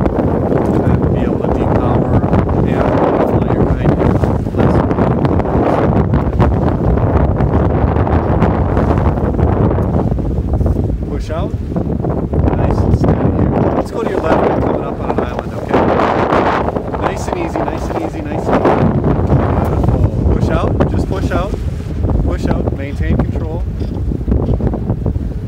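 Gusty wind at a kiting spot buffets the microphone in a loud, continuous roar that swells and eases with the gusts, while a voice talks over it.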